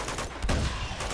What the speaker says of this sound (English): The hell are they shooting at?